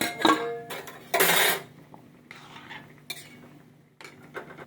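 Vegetable curry with fresh coriander leaves is stirred in a pot, producing several distinct bursts of spoon scraping and metal clatter with quieter gaps between them.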